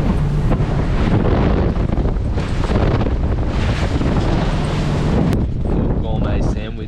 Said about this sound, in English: the wind is just driving me insane because I can't anchor